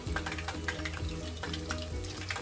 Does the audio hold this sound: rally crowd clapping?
no